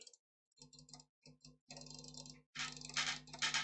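A computer mouse is clicked rapidly during a clicks-per-second test, giving bursts of fast, sharp ticking that start sparse and become dense, continuous runs, heard up close with no talking.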